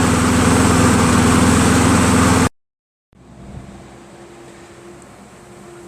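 A Craftsman self-propelled big-wheel lawn mower with a Briggs & Stratton Quantum engine runs loud and steady, cuts out abruptly into silence, then a quieter steady hum returns.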